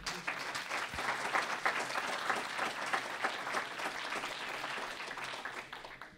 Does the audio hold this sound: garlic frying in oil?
no